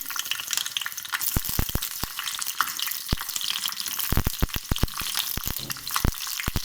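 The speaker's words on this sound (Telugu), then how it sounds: "ఆయిల్ వేడయ్యాక ఒక 5 పచ్చిమిర్చి ఇట్లా తుంచి వేయాలి" Five green chillies, broken by hand, frying in hot oil in a pan for mint chutney, giving a steady crackling sizzle with sharp pops and spits scattered throughout, close by and alone.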